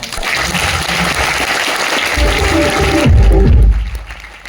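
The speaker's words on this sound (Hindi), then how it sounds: "उन दोनों कोचों के लिए दिल खोल के तालियां चाहता हूं।" An audience at a Solapur celebration programme claps for two coaches, a loud, busy patter of hands for about three seconds before heavier low rumbling and tonal sounds take over near the end.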